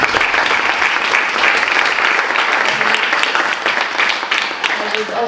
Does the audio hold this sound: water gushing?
no